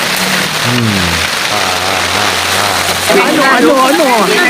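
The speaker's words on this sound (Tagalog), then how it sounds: "Lagi na lang umuulan." Steady rain hisses on a surface throughout, loud and close, while voices speak over it.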